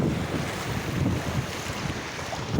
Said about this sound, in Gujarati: તો ચાલો જોઈ લ્યો એનો વ્યૂ, આ છે ખારી નદી